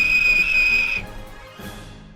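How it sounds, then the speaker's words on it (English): Thomas the Tank Engine's steam whistle sounding one clear sustained high note for about a second, then cutting off, followed by quieter rumbling. "and Thomas in return always whistles."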